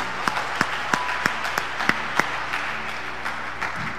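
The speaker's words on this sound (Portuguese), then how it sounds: "aplauda Jesus." A church congregation applauding during a Portuguese-language sermon: a run of about eight sharp, rhythmic claps at moderate distance, then looser scattered clapping as it trails off, with no voices over it.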